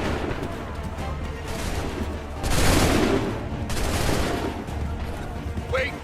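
A musket volley is fired on command in Assassin's Creed III, heard as a single broad crash of gunfire rising over a steady battle din, with shouted orders in the background.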